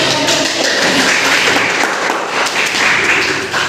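Classroom applause during a teacher training session, steady group clapping with a few heavier taps and thuds close by, loud and continuous.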